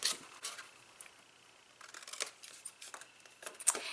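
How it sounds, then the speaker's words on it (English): Scissors snip paper up to crisscrossing score lines while a snowflake gift box is made, several crisp dry cuts spaced unevenly, close and quiet, with no talking. "come in here with our scissors, snip up to where those two score lines crisscross each other"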